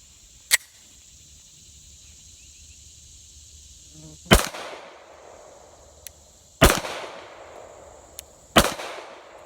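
Beretta 90 Two pistols fire at an outdoor range at 25 yards: one sharp shot, then three loud cracks spaced about two seconds apart, each with a short echoing tail, plus a few faint clicks between.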